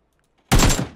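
Gunfire in a shooter video game, with a heavy burst of automatic fire erupting suddenly after silence, loud and dense, then tailing off quickly.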